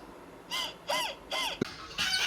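An African grey parrot gives several loud, harsh calls in quick succession, close by, each a short rising-falling squawk with a sharp click between them.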